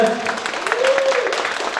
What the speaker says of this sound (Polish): Przywitamy Agatę gorącymi oklaskami bardzo głośne.